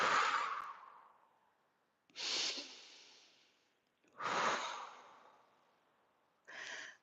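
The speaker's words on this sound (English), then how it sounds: "Take a deep breath." Long, deep breaths taken during a standing balance exercise with eyes closed, four airy inhales and exhales in slow succession, each swelling then trailing off, close and clear with no talking.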